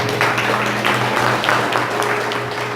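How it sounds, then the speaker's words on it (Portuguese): A church congregation claps and cheers during a sermon, a loud, steady wash of applause with bursts of voices rising through it, while a low organ or keyboard hum sustains underneath. "Dá um salve de palmas para a Gabriela, dá?"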